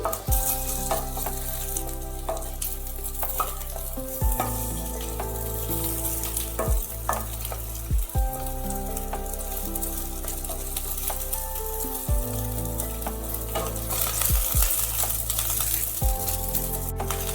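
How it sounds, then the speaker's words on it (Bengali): Eggplant slices fry in oil in a pan over a medium gas flame. A steady, close sizzle carries on throughout, broken now and then by sharp metallic clinks of a utensil turning the pieces. "এপিট ওপিট করে এইভাবে ভালোভাবে বেগুনগুলোকে ভেজে নিতে হবে।"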